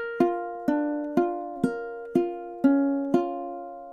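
Ukulele picks out a solo passage from a song, seven clear plucked notes at an even, unhurried pace, each ringing and decaying, close and alone.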